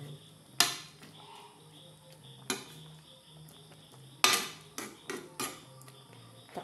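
A lid clanks onto a pot of simmering sinigang na isda with okra, giving a few sharp metallic knocks and rattles against a quiet kitchen background.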